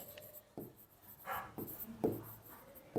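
A pen or marker writes on a board during a calculus lecture on limits, producing quiet scratchy strokes in short irregular bursts, close and faint, with no voice heard.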